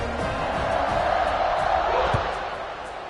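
College football stadium crowd buzzing and cheering in a broad, steady roar after a score, with an announcer's voice faintly over it.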